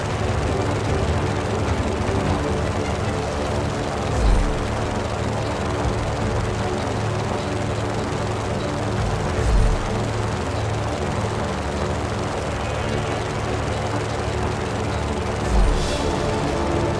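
Airplane engine droning steadily during a plane mission in the Just Cause video game, a continuous broadband propeller-like hum with a few brief louder bumps, no talking.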